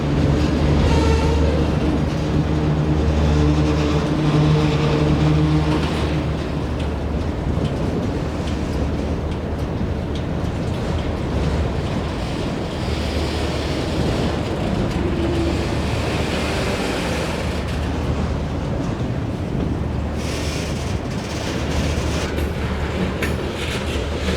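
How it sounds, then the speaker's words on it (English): An intermodal freight train rumbling steadily past at a rail yard, a continuous loud roar of rolling cars with faint rhythmic clatter throughout. "an intermodal train looks to be getting put together at Luther Yard"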